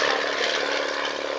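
A propeller airplane takes off at an air festival, its engine drone loud, close and continuous for a brief moment, steady in pitch with no voices over it.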